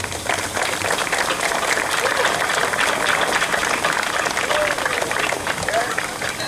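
A crowd at a high school football senior walk for Kingston High School cheers and applauds steadily and loudly, a constant wash of clapping with a few voices rising from the stands.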